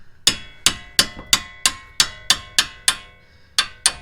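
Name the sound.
hammer knocking out camber bolt on Subaru WRX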